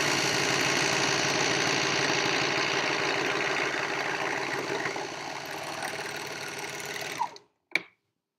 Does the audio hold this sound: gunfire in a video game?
no